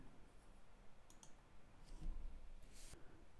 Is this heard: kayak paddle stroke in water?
no